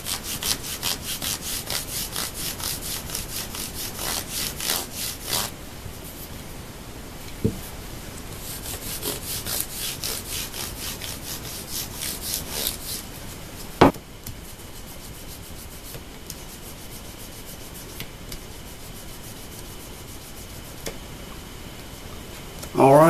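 A 12,000-grit polishing pad rubs across a guitar's finish in steady back-and-forth strokes, a soft close scrubbing with brief pauses and one sharp knock partway through.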